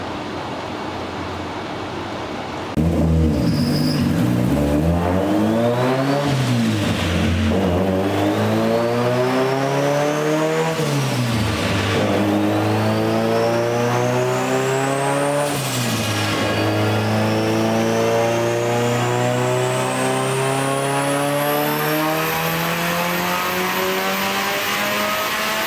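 A Chevrolet Cruze engine revving hard on a dyno, loud and close, climbing in pitch through repeated gear pulls over about twenty-five seconds toward an 8,000 rpm limiter, with no talking.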